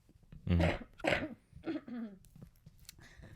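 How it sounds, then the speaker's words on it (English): A few harsh coughs close to the mic, two strong bursts followed by softer throat-clearing sounds, with no talking. "Hold on, I have to cough."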